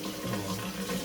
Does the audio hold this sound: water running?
yes